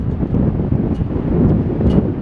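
Strong wind buffeting the microphone on the Blackpool promenade, a loud steady low roar with gusty rumbling throughout and no voice heard.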